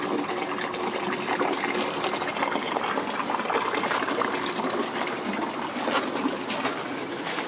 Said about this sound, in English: what's great about the sound of water is it drowns out traffic noise if you're close to a road